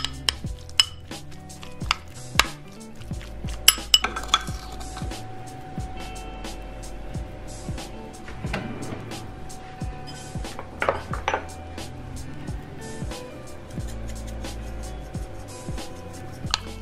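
Onions chopped in a home kitchen alongside scattered clinks of dishes and utensils, with irregular sharp knocks and clatters spread across a quiet background.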